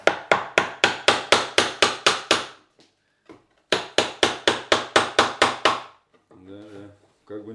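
A carving chisel is hammered into pine while shaping a bear's head. Two fast, even runs of about ten sharp, close wooden knocks each are split by a short pause, and brief speech follows.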